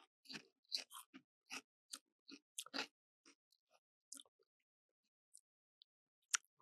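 Wise regular potato chips crunched close up, a series of sharp, crisp bites and chews in irregular rhythm with quiet pauses between, no talking.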